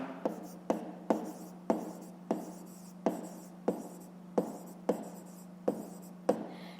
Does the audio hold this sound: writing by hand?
yes